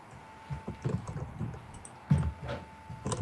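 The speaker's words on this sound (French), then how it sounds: "si vous entendez mon clavier" Typing on a laptop keyboard during a game session, with irregular clusters of soft key clicks and taps heard close and alone over a steady faint hum.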